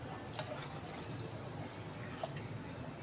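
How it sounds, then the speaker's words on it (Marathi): Milk pours softly into a pan with a faint, continuous splashing trickle and a few drips. "आता टाकूया 1 ग्लास दूध"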